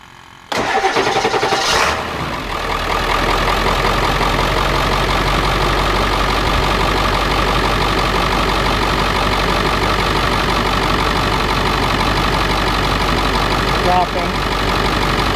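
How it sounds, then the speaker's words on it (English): A 2001 Ford Super Duty with a 7.3 diesel cranks over, catches and settles into a steady, loud idle that runs on close by with little change. "Starting the motor."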